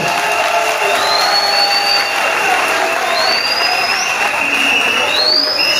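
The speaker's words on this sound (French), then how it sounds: "Applaudissez-les." A large crowd at a political rally for a presidential election applauds loudly and steadily, with cheering and whistles rising through the sustained clapping.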